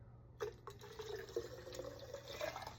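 Water is poured from one wine carafe into another in a quiet, soft trickling splash lasting a few seconds, faint and close with a low background hum.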